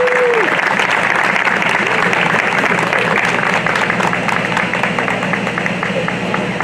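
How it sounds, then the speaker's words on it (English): Sustained applause from a Pride Day crowd, dense steady clapping at close range filling the whole stretch without a break, with a faint voice briefly audible at the start. "one more round of applause"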